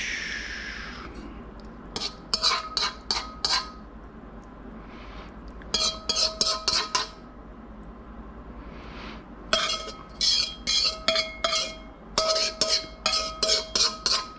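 A metal utensil scrapes and taps against a wok or dish again and again while mapo tofu is plated, coming in quick bursts of bright clinks between short pauses, close up and with no talking.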